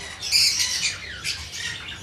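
Pet opaline parakeet giving a few loud, harsh squawks in quick succession, close by and with no speech over them.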